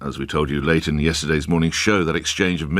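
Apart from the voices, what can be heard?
No everyday noises stand out.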